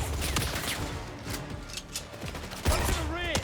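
Gunfire from a shootout in the 007 First Light video game: dense, continuous bursts with sharp cracks, a heavy burst near the end, and shouted voices over the fighting.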